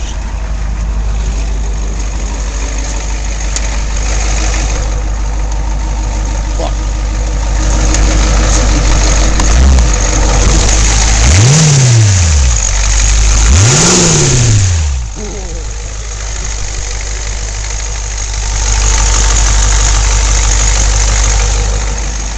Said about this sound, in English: right now we're just going to make it rev a lot